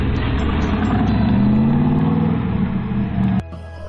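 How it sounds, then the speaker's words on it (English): A pickup truck engine idles steadily with a low, droning hum that rises slightly, then drops off abruptly near the end. "Pickup truck."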